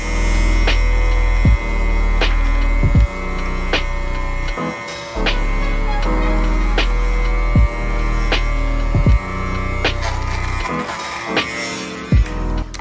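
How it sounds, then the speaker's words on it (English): A Wonderlint electric sweater shaver runs over pilled fabric on a table, giving a loud, steady motor hum with repeated clicks and brief dropouts as it passes back and forth across the cloth. "the sweater shaver can actually take care of that pretty quickly"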